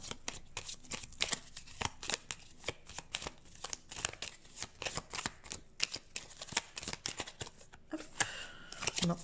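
Oracle cards are shuffled by hand in quick, irregular riffling bursts and soft slaps, close and crisp, repeating over and over during a card reading.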